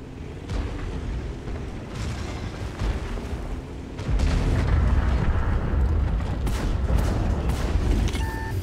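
Heavy booming tank cannon fire and explosions in World of Tanks, with a dense rumbling barrage that grows louder halfway through, sharp blasts cutting in near the end.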